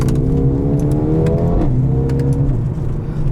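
A 2021 Mercedes-Benz CLA 35 AMG revs hard under acceleration, a loud, close, continuous engine roar with rising harmonics, a brief dip as it shifts, then climbing again.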